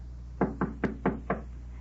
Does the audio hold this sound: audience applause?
no